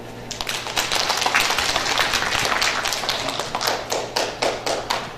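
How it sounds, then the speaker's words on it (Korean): Audience clapping at a family counseling lecture for engaged couples held in a wedding hall, dense and lively close applause lasting several seconds before it thins out. "박수."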